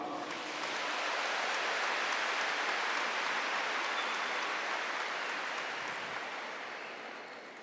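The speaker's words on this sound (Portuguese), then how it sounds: "Aplauda este irmão" Sustained applause from a church congregation honoring a fellow member, a dense, steady wash of clapping that holds loud for several seconds before tapering slightly at the end, with no talking over it.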